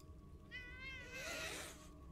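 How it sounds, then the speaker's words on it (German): Cats meowing in the Grim Tales hidden-object game, two drawn-out, tonal mewing calls in quick succession, the second louder and rougher, heard alone against a faint steady background hum. "Katzen."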